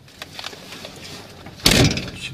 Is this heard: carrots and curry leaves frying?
no